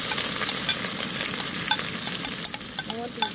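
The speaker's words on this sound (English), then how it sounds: "I want these onions to get kind of caramelized. We're on a high flame." Garlic, onions, tomatoes and mushrooms fry over a high flame outdoors for fajita-style taco filling. A steady sizzle runs throughout, with scattered sharp clicks and taps from a utensil stirring the pan.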